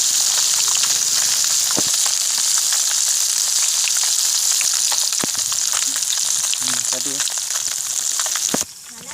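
Fish sizzling steadily in hot oil in a village kitchen, a dense continuous crackle with scattered pops and a few faint clinks, holding loud throughout before dropping slightly near the end.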